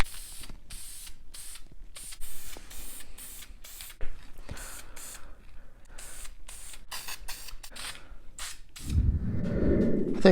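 A spray can of VHT engine paint hisses in repeated short bursts separated by brief pauses, close to the microphone, ending with a louder, rougher stretch of noise.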